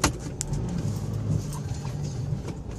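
A car's engine holds a steady, close hum as the driver gives it throttle on a country outing. A few faint bird calls and light knocks sit in the background.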